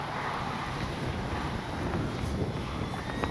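Wind buffets and roars across the microphone outdoors, broad rushing gusts that swell and ease, faintly carrying the distant drone of a small FMS PC-21 Pilatus RC plane flying overhead.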